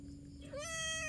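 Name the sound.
newborn white kitten meowing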